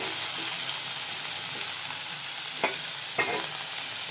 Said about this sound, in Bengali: আর কিন্দুরি, পেঁয়াজ আর একটা লঙ্কা দিয়ে এখন ভাজছি